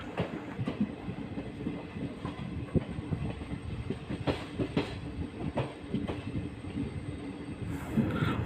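A passenger train on the KSR Bengaluru–Challakere line pulls into a railway station, with a steady, loud rumble of rolling wagons and scattered wheel clicks and clanks throughout, close by and without talk.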